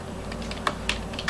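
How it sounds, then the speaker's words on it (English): Slow, uneven key taps on a computer keyboard typed with one hand, a handful of distinct clicks close up against a low background hum. "I really can't type with one hand."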